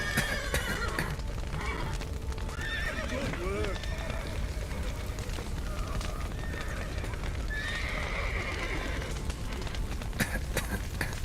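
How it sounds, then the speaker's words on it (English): Horses neigh and whinny in the Witcher 3 video game amid clip-clopping hooves and a busy, crackling background, with voices talking over parts of it. "The horses!"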